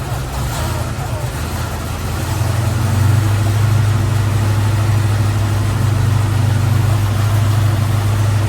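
A car engine drones loudly close by, its pitch rising as it accelerates, then it settles into a steady pull after shifting into second gear.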